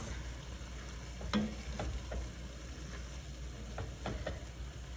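Seasoning being stirred into a Cajun beef roast in a pot, with soft scraping and a few light clicks of a spoon against the side over a faint steady sizzle, close and quiet, with no talking.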